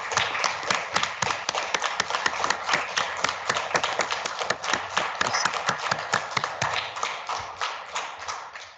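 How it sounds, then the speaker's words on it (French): Children in a hall applauding warmly after a talk at a children's municipal council meeting, a dense burst of many small hands clapping that thins and fades toward the end. "je demanderai aux enfants de vous applaudir très chaleureusement pour votre intervention"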